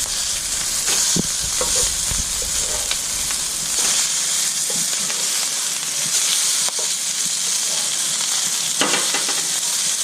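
Thresher shark burgers sizzle loudly in a hot pan, a dense continuous hiss of frying fat with occasional pops and a few light utensil bumps, close and steady with no voices.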